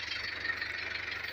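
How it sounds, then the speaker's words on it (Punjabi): A New Holland 7056 4x4 85hp tractor pulling a 20-disc harrow runs steadily at a distance, a faint low throb under a broad, even hiss, with no talk. "ਇਹ ਜੀ ਟਰੈਕਟਰ ਚਲਾ ਰਿਹਾ,"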